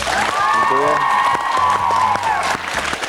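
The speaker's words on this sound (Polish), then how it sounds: "brawa duża dla pana Michała." Steady applause from a TV studio audience fills the clip, with a voice speaking and a sustained tone over the clapping.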